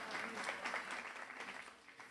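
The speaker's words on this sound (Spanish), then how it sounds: "Un aplauso para Mónica." An audience at a conference panel applauds, a brief steady patter of many hands that sounds faint and somewhat distant, holding evenly before thinning toward the end.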